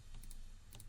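Faint, soft computer keyboard clicks, a couple close together and then one more, as a Control+E shortcut is pressed while modeling in Maya 2017.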